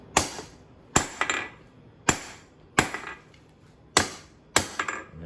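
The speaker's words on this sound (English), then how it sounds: "hold the hammer at an angle, and knock on 4 sides" A hammer forges a short taper on a hand-forged blacksmith's hold fast, striking six sharp, ringing blows at roughly one-second intervals, each sometimes followed by a quick lighter rebound tap, with quiet pauses between.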